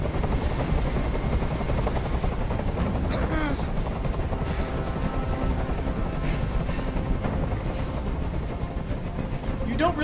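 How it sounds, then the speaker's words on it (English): Helicopter hovering in the video game Detroit: Become Human, a loud continuous rotor drone that fills the whole scene, with game dialogue and tense ambience layered over it. "Tell that helicopter to get out of here."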